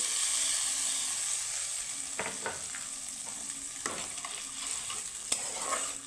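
Spice paste thinned with a splash of water being sautéed in a pan for a pumpkin and peanut curry: a steady close sizzle with a bright hiss, broken by scraping stirs around the middle and end.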